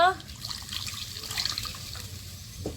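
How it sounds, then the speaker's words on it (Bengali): Spiced water poured into a pan of katla fish curry with taro, a brief splashing pour and running-water sound with light bubbling, and a voice speaks briefly over it. "অল্প পরিমাণে মশলার জল দিব।"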